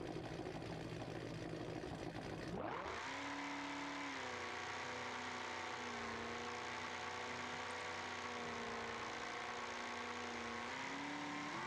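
In BeamNG.drive, a car launches off the line in a drag race with its engine at a steady high whine, then pitch rising sharply as it shifts, a sustained droning roar that climbs and holds.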